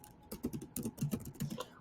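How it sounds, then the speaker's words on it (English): Keys clatter on a computer keyboard in a quick, uneven burst of close, crisp taps, typing out a blog post with no voices. "So you can start typing here."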